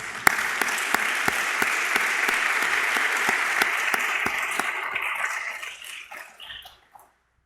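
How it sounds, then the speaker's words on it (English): Audience applause at an academic investiture ceremony honoring a family's endowed chair gift: steady, dense clapping from a large room that holds evenly for several seconds, then thins out and fades away near the end. "Let's join me in a round of applause for their support."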